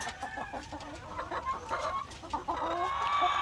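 White leghorn hens on an egg farm cluck and squawk in a busy, continuous flock chorus, several birds overlapping at moderate distance with no talking.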